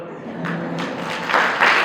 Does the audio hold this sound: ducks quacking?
no